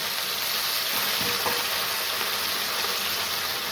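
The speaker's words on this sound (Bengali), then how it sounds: "মাছ দিয়ে দিলাম আমি মাছগুলো হালকা করে ভেজে নেব" Hilsa fish pieces fry lightly in a pan, giving a steady, soft sizzle and crackle with faint stirring, fairly quiet and unbroken throughout.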